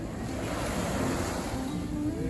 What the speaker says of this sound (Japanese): 波が急に来るからね。